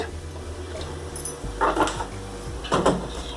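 Two short clattering knocks of a metal pan being set down on a stovetop to heat oil for frying idli, close and fairly quiet, over a low steady hum.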